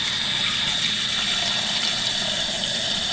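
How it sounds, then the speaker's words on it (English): Cold water runs from a sink tap into a bowl, a loud, steady rushing gush that fills the whole moment without a break. "Now you just want to fill this up now with cold water."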